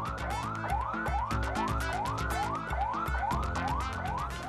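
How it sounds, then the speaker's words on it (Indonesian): Ambulance sirens at a Class 2A prison in Gorontalo city sound in rapid, repeating up-and-down yelps, loud and continuous, with several overlapping tones and no voices. "Suasana Lapas Kelas 2A Kota Gorontalo berubah riuh dengan suara sirine ambulans."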